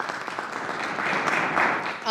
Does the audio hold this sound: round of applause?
yes